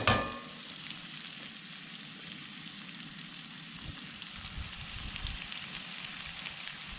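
Butter and bacon grease sizzle steadily in a hot pan on a Camp Chef camp stove, a dense, continuous hiss with a sharp clatter at the very start and no talk.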